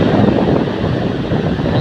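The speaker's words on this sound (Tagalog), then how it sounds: "Wow, sarap ng hangin." Strong wind buffets the microphone in a loud, continuous roar with no pauses.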